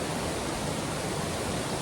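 Clear creek water flows steadily on a gray spring day, a dense, even rush of running water that stays close and unbroken throughout.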